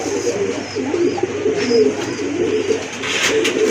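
Fancy pigeons, a full kolshi gola breed, coo steadily and close by in low, rolling phrases, with no talk over them.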